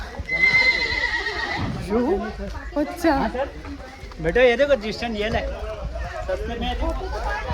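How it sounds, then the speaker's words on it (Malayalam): Horses at Matheran hill station, many of them tethered together, whinny loudly up close while hooves clip-clop on the ground, with people chattering and talking throughout. "എന്തോരം കുതിരകളാന്നൊക്കെ ഇവിടെ ഫുള്ള് കുതിരനെ കെട്ടിയിട്ടിട്ടുണ്ട്"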